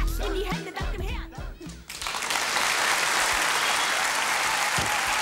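A TV studio audience claps together, starting with a few scattered claps over the first couple of seconds and then swelling into loud, sustained applause that fills the rest of the recording.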